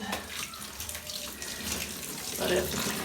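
Water draining and splashing from soaked raw wool fleece as it is squeezed out, a continuous trickling and pouring that swells into a louder gush near the end.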